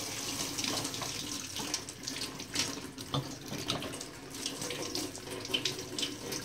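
Running tap water splashes into a sink as eggs are gently washed before salting, a steady close stream with small irregular splashes and clunks, no voices.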